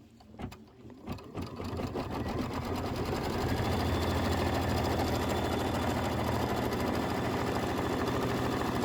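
Embroidery machine stitching background quilting on a Kimberbell autumn quilt block with putty-colored thread, starting with a few clicks and then settling into a loud, steady, rapid mechanical whir that runs continuously up close.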